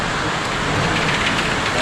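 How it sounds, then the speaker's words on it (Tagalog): Rain falling outdoors during a power outage, a dense, steady hiss of drops that fills the short stretch evenly and loudly, with no voices. "Eh, maulan eh."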